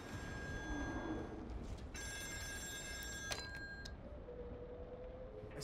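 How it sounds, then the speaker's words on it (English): An old-style telephone bell rings in the video game Still Wakes the Deep, a couple of shrill metallic bursts over a low rumbling ambience, fairly faint, with no speech. "Is that ringing again?"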